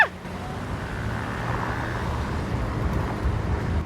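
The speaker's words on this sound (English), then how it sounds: "Here's the sound of going down the Champs-Élysées on scooter." Scooter riding down the Champs-Élysées in Paris, a steady low engine drone with wind rush and surrounding traffic noise, continuous and moderately loud.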